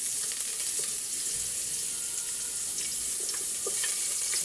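Ginger hits a hot pan and fries with a steady, loud, hissing sizzle that stays even throughout, with no voices over it.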